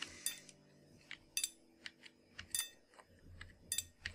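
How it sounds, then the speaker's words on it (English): Workers mining in the video game Timber and Stone make sharp metallic clinks and taps at irregular intervals, quiet and spread out, with no talk. "Hear them clinking away in the mines."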